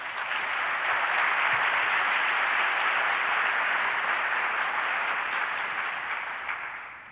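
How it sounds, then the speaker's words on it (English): Conference audience applauding for an executive secretary at an opening session, a dense sustained wash of many hands clapping that holds steady for several seconds before tapering off at the end. "So may I ask a little applause for Nicole?"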